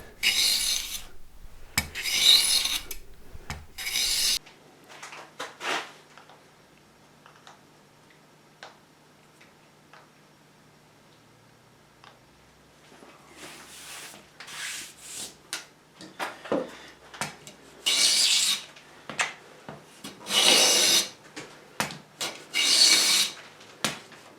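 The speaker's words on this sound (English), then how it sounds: "We can get that with the sanding block." Rasping strokes of a sanding block on a wooden ES-335-style guitar fretboard being radiused, in bursts of back-and-forth rubbing separated by a quieter stretch with faint ticking.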